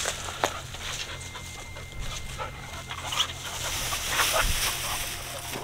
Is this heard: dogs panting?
yes